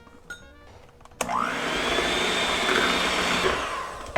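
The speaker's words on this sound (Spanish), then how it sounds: "Continuamos batiendo." Electric mixer beating tamale batter with corn flour, starting abruptly after a short quiet moment of faint clinks, then a loud steady whirring hum that runs on without pause.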